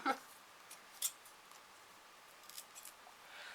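Scissors snip through a small piece of craft material in a few quiet, separate cuts close to the microphone, with a soft rustle between them.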